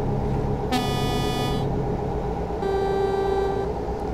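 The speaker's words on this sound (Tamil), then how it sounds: "ஸோ இப்போ ஹார்ன் செக் பண்ணி பார்ப்போம்." A stock Western Star 49X truck horn in American Truck Simulator blasts twice: a short bright honk, a gap, then a longer steady blare over a constant engine rumble.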